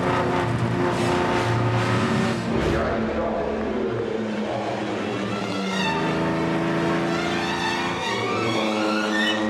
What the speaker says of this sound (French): c'est la lutte des Talbot contre les Lagonda et autres Bugatti qui nous emmène à un train d'enfer vers la ligne d'arrivée